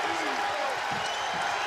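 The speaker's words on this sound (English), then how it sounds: "And a big crowd coming to life." A basketball arena crowd at an NCAA game between Wichita State and Memphis rises into a dense, steady roar of cheering and applause, with a commentator talking over it throughout.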